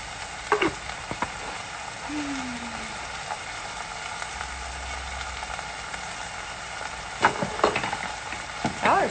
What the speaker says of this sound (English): Then I gotta do a bunch of garlic.